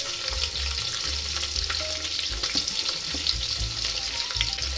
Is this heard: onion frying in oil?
yes